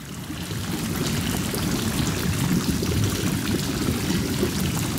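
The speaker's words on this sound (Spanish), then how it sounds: "el nivel de agua está bajando" Water drains out of Bélegos' forge in Lord of the Rings: Return to Moria, a steady low pouring and gurgling flow that runs continuously at a moderate level with no voices.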